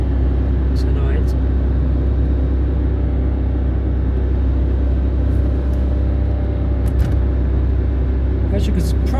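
Steady engine drone and road rumble from a car called Flea while driving near Ventnor on the Isle of Wight, a constant low hum throughout with a few faint higher clicks and squeaks.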